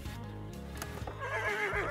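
A horse neighs during grooming with a curry brush, a clear wavering whinny near the end, preceded by a few hoof knocks and shuffles.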